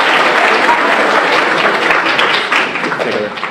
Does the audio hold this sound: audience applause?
yes